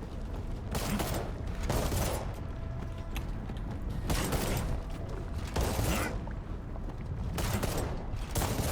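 Gunfire in the video game Arknights Endfield, heavy repeated blasts in dense clustered bursts over constant mechanical noise, fairly loud throughout.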